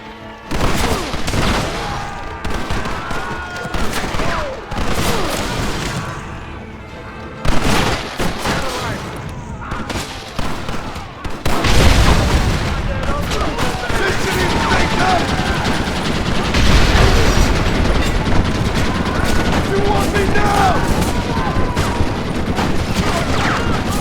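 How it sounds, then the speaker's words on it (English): Gatling gun in the Western video game Red Dead Redemption, firing long sustained rattling bursts amid other gunfire and booms, loud and continuous, with voices shouting over the battle. "You man the Gatling gun, Marston!"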